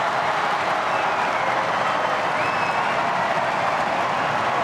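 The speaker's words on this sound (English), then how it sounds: "Crowd on their feet." A packed tennis stadium crowd at the Australian Open applauds on its feet near the end of a long match, sustained loud clapping and cheering that washes over everything with no break.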